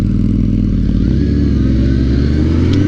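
Motorcycle engine idling and shifting down while coasting to a stop, clutch pulled in as it drops from second into first; a steady, close low rumble with slight revving variations throughout.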